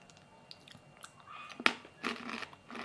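Crunchy Japanese-style coated peanuts being chewed close up, a few soft bites at first, then a louder crunch and a burst of dense crackling chewing toward the end, with no talking.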